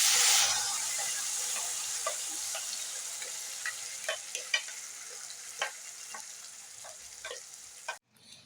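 Kara chutney gravy bubbles and sizzles in a pan, a steady frying hiss scattered with small pops and spatters, near and alone, before cutting off briefly near the end.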